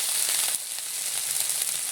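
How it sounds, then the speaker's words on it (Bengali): Garlic hits hot oil in a wok with a steady, close sizzle and crackle that fills the whole moment, with no talking. "পাশে কড়াই তেলে দিয়ে দিচ্ছি রসুন"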